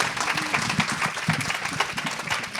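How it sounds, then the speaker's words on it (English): An audience at a startup pitch event claps in a dense, continuous burst of applause, steady and fairly near, with a faint voice beneath. "let's give Michelle a big round of applause"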